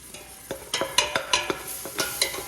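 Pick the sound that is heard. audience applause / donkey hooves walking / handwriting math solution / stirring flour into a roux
stirring flour into a roux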